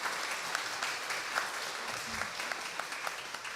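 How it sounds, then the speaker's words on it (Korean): Church congregation applauding in welcome at a Sunday service, a steady wash of many hands clapping evenly for several seconds with a faint murmur underneath. "여러분 박수로 환영해 주시고 또 많이 격려 부탁드리겠습니다."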